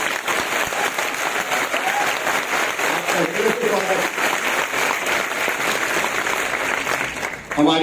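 Sustained applause from a large crowd at an official public event in Jabalpur, Madhya Pradesh, with dense, even clapping holding steady for several seconds before cutting off.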